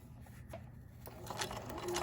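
Domestic sewing machine stitching fabric forward after the presser foot is lowered, a quiet, brief mechanical whirring with faint rapid needle clatter.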